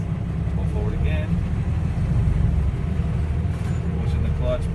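A tractor-trailer truck's diesel engine rumbles low and steady up close as the rig pulls forward during an in-cab brake test, its deep drone continuous throughout.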